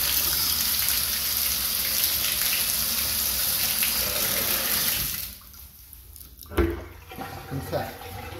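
Water runs steadily from a faucet in a house during a walkthrough check of the plumbing, a continuous rushing hiss that cuts off abruptly, followed by quiet room tone and a few clunks and bumps.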